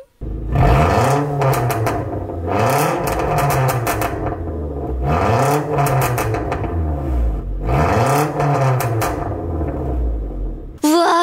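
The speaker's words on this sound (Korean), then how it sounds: "피코 가변 배기에다가 커스텀 중통으로 팝콘 맵 넣어놔서 이렇게 중간에 약간 CGV처럼 파박 파박 하는 팝콘 소리 느끼셨을 거예요" Tuned Renault Samsung SM5 with a Piko variable exhaust, custom mid-pipe and popcorn map revs hard four times in steady cycles, each rising to a loud close roar and falling back with crackling pops.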